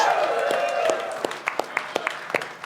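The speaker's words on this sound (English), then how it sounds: "Give yourselves a round of applause, please" Scattered claps ring out from a live podcast audience in Atlanta after a voice fades, a handful of distinct hand claps at an uneven rhythm, fairly close.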